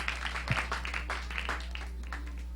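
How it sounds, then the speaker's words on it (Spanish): Church congregation clapping for the Lord during a Spanish-language worship service, a moderate, irregular patter of many hands with scattered louder claps over a steady low hum. "Denle un aplauso al Señor"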